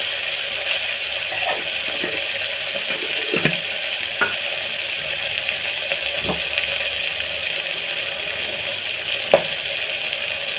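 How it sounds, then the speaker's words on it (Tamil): Tomatoes and chili powder being sautéed in a pan, a soft continuous sizzle with a few sharp spoon taps and stirring scrapes against the pan. "எல்லாத்துக்கும் நல்லா வதக்கிடணும்"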